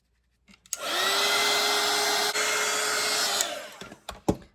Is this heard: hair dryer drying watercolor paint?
yes